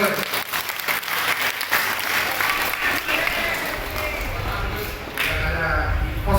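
Dense, sustained applause from a lecture audience at an Islamic college hall fills the whole stretch, loud and steady with a brief dip near the end, with faint voices mixed into the crowd noise.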